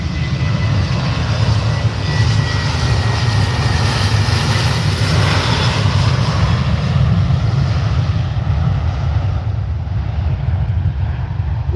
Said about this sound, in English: 737-800 departing to Madrid, so we will capture this.